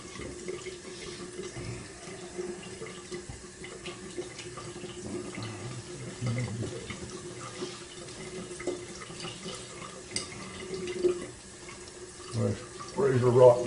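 Tap water runs and splashes as a face is rinsed and re-wetted during a straight razor shave, a soft continuous trickle with occasional louder splashes near the end.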